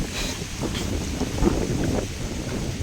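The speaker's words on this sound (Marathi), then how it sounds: "वारा भरपूर सुटलं विचारायचं कामच नाही." Strong wind blowing through a sugarcane field, a rushing, buffeting roar close to the microphone with gusty swells over a few seconds.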